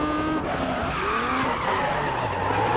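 Car tires squeal and skid continuously under a revving engine during a drift attack event in the racing game GRID Autosport, loud and sustained throughout.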